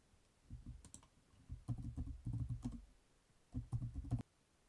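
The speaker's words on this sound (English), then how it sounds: "You can now add tasks by typing into each row." Typing on a computer keyboard while adding tasks to list rows, heard as bursts of quick, close key clicks in several short runs separated by brief pauses, with no talking.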